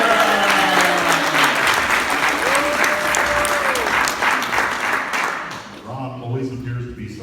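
Audience applause for Mayor Jeff Ussery, a dense burst of clapping from a crowd with a few cheers and a brief whistle, fading out toward the end.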